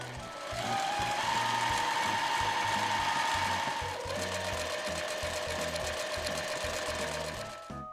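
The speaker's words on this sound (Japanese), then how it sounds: "今回は重機の職業用ミシン SL700EX を使用します。" A Juki SL700EX professional sewing machine stitches gauze with a size 11 needle at about 3.0 stitch length, its motor whirring and the needle clattering in a fast, even rhythm close by.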